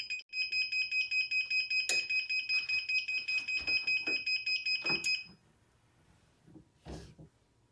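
A shrill electronic heat press timer beeps rapidly in a steady repeating pattern for about five seconds while pressing a sublimation hat, then stops, followed by a few faint handling clunks.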